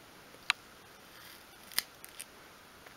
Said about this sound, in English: Cut like that, and again that's the 3mm 1/8 of an inch strip wood.